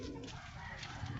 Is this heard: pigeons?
yes